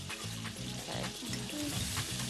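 Chicken fries in a hot pan during a cooking contest, giving a steady, close sizzle and crackle with faint stirring noises.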